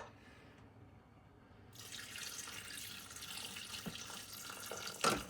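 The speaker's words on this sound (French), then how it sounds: "Et je mets 200 g d'eau." Water pours into a cooking machine bowl, starting quietly and swelling into a steady trickling stream with a small splash near the end, close by with no talk.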